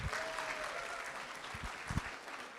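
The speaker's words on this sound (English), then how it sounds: "Let's give him another round of applause." A crowd applauds, a dense wash of clapping throughout with a few sharper claps standing out near the end, no one speaking.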